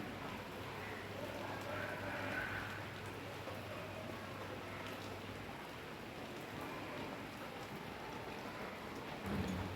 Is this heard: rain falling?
yes